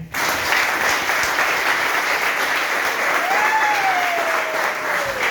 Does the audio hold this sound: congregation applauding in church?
yes